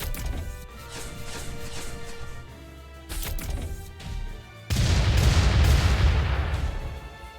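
Missile explosions from a mech in Front Mission 2: Remake: several booming crashes arrive in bursts, followed by a loud, sustained explosive roar in the final seconds.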